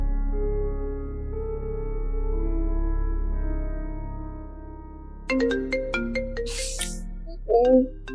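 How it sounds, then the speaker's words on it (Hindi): A mobile phone plays its ringtone for an incoming call from dad in a Pakistani TV drama scene. The repeating electronic tones enter after sustained soft background music and continue to the end, with a brief vocal sound near the close. "पापा की कॉल आने लगी है, इसी बात का मुझे डर था।"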